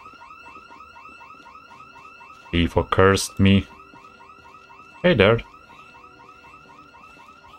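A car alarm in the Project Zomboid video game wails in a steady, repeating warble for the whole stretch, with someone speaking briefly over it in the middle.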